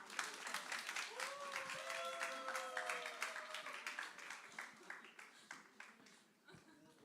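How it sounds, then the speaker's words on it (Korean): Applause in a church young adults' Sunday service in Seoul as a reading club presenter walks up, a room of brisk clapping that peaks early then thins into scattered claps, with a few voices and cheers mixed in. "나오실 때 큰 박수 부탁드립니다"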